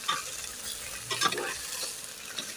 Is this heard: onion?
yes